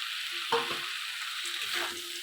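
Crushed lentil dumplings (bori) frying dry in a pan, a steady sizzle broken by two scraping stirs of a spatula against the metal, close and without talk.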